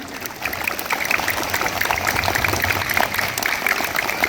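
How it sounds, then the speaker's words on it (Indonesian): A school assembly crowd claps steadily throughout, dense, continuous applause with a slight lift in intensity early on. "Ya, tepuk tangan"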